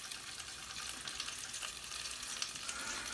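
Breaded chicken milanesa sizzles steadily in a hot pan of oil, a continuous crackling hiss with small pops, fairly quiet and close, with no voices.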